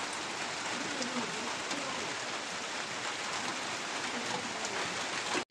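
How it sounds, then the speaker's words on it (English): Steady heavy rain pours in an African village in November, a dense continuous hiss with scattered drop patter on surfaces, loud and unbroken throughout, ending with a sudden cut. "This is November and we are seeing this type of rain."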